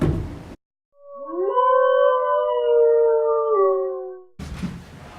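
A lone wolf howl rises, holds a long wavering note, and fades, about three and a half seconds of clear sound, with short bursts of other sound just before and after it.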